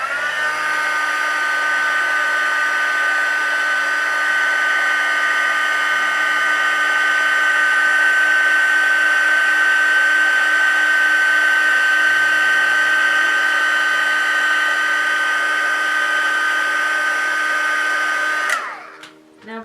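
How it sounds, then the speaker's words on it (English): A heat tool runs steadily at close range, heat-setting paint, a strong continuous whine with a faint hum beneath that holds for about eighteen seconds before cutting off abruptly. "And then we'll heat set that."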